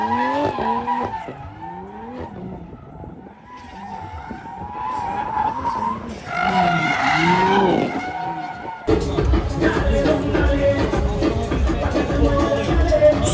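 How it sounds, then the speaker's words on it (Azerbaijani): A drift car skids on a track while heating its tyres, with long wavering tyre squeals over a revving engine, then a louder, denser burst of screeching and engine roar near the end. "Yəqin ki, təkər qızdırır."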